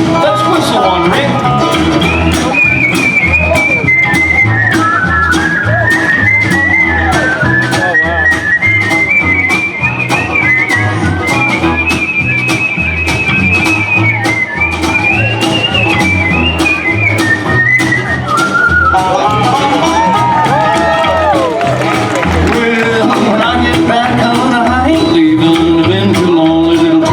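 Whistling solo carried over a live hillbilly band song at an outdoor show, a melodic whistled line rising and falling above steady loud guitar and rhythm backing for most of the stretch.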